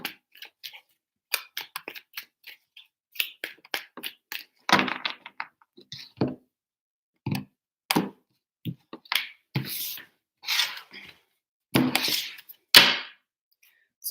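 Tarot cards being shuffled by hand, a run of sharp riffling bursts and soft card flicks in irregular clusters, close and fairly quiet with no talking.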